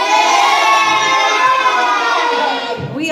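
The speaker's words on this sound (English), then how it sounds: "So everybody give a big cheer." A class of children gives a loud, sustained cheer that fills the room, voices blending in one long shout that fades slightly at the end.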